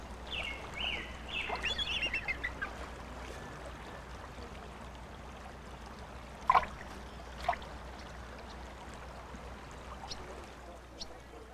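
Bald eagles calling over Puget Sound: a burst of high, thin chittering calls early on, then two sharp, brief notes later, heard at a distance over a steady outdoor background.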